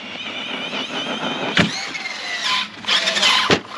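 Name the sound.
Arrma Fireteam RC car driving, attempting a wheelie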